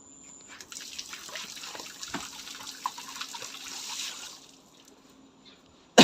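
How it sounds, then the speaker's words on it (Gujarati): Water runs from an opened household tap in a steady splashing stream for several seconds, then the flow cuts off, followed by a sharp knock at the very end. "ચકલી ખોલ નાખો"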